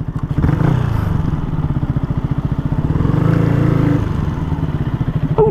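A Yamaha MT-125 motorcycle rides along with a steady, pulsing engine drone held close and loud, rising slightly in pitch as it revs, with a brief clatter at the end.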